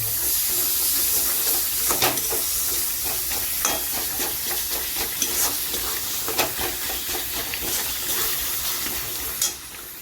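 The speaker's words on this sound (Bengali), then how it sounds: "মশলা আমাদের মোটামুটি ভাজা হচ্ছে, সাইড থেকে তেলও ছেড়েছে।" Spices and chopped tomatoes fry and sizzle in oil for mutton bhuna, a continuous loud hiss broken by occasional stirring scrapes, with no talk.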